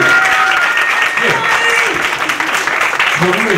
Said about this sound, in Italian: scatta un applauso